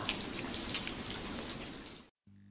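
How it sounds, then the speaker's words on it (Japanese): Steady rain falls on the route to Kifune Shrine in Kyoto, a dense continuous hiss of drops spattering on surfaces, close and fairly loud, before cutting off abruptly near the end. "この雨は貴船神社に着くまで続くんだろうな。"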